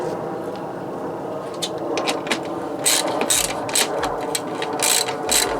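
A ratchet wrench with a 7/16 socket tightens a bolt through thin vehicle sheet metal, giving close, steady clicking in short bursts over a quiet background.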